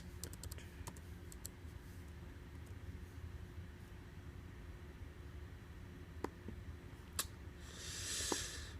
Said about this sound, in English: Alright, let's type.